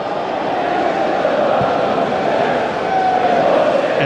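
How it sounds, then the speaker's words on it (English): A large stadium crowd of about 75,500 at a Manchester United vs Sunderland football match, a steady roaring murmur that swells slightly toward the end, with a commentator's voice faintly over it. "Big crowd bursting for a goal."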